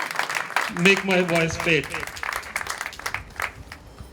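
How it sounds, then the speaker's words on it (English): Audience applause at a 2020 gala event fills the room as steady, dense clapping beneath a speaker's voice, with a brief tonal sound early on, continuing at moderate loudness throughout. "Keep on clapping."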